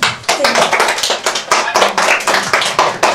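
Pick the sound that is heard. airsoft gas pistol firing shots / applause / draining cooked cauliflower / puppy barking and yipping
applause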